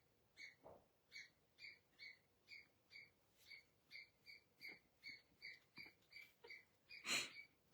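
A pet bird imitating a dog repeats a short, sharp bark-like call in a steady rhythm, over a dozen times in a row, ending with one louder squawk.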